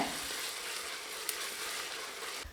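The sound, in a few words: ginger garlic paste and green chilli sautéing in a pan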